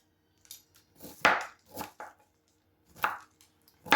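A knife chopping food on a cutting board while prepping holiday snacks, a handful of crisp close thuds that come in short uneven bursts with quiet gaps between them, and no talking.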